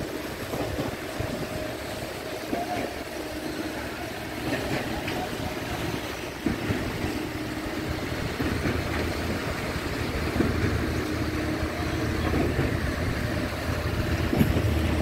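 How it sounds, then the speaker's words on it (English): Three concrete pumps run steadily at a raft foundation pour on a construction site, giving a continuous, broad mechanical rumble and drone that holds level throughout with no talk. "Now, we started three pumps to do the concrete, to place the concrete evenly throughout the raft."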